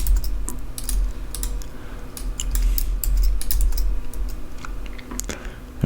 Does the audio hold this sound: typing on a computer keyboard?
yes